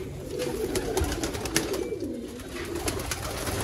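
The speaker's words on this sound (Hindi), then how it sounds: "ये माशाल्लाह चूहे कबूतरों का शौक करें" Sialkoti rare 'chuhe' pigeons coo continuously in a close, dense chorus, low throaty calls overlapping without a break.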